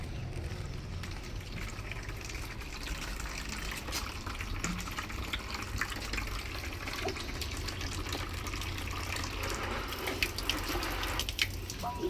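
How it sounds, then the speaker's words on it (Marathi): Tap water runs steadily into a metal water pot as it is washed and filled, a continuous splashing gush close by with small clinks, no talking. "घेते हांडा धुवून आणि मग भरून घेते"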